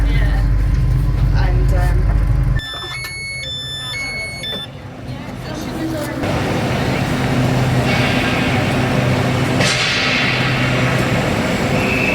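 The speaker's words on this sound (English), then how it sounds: "we're going to hop on that train and do the next part of the journey" A train heard from inside or nearby in London: a loud low rumble, a short series of electronic chime or warning tones, then steady running noise with some brief hissing swells.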